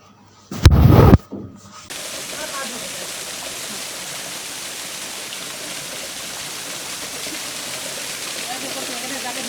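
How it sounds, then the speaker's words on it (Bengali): Mountain waterfall in hill country at Himchori, Cox's Bazar, a steady broadband rush of falling water heard from close by, continuous after a short burst of louder noise at the start. "সঙ্গে পাহাড়ি ঝর্ণার শব্দ"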